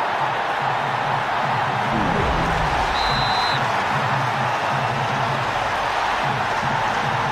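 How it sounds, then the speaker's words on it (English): Simulated stadium crowd in a FIFA football video game, a steady broad roar of cheering fans at a distance with a low rumbling bed and a brief whistle-like tone, continuous and moderately loud. "The crowd excited about this one"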